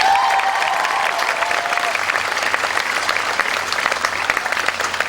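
A theatre audience applauds for a stage helper, many hands clapping in a dense, even wash that holds steady for several seconds, full and fairly loud, with a faint voice at the start.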